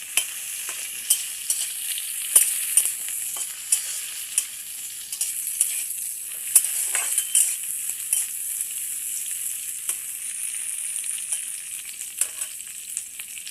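Mixed nuts, cashews and raisins fry in a pan while being stirred, producing a steady bright sizzle broken by repeated sharp clicks and scrapes of the spoon, close-up and without speech.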